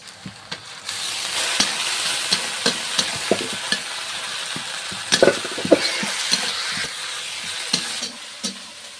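Spice masala fries in oil in a pan for a chicken curry, a dense continuous sizzle punctuated by frequent scraping, tapping stirs from a spoon, close and moderately loud.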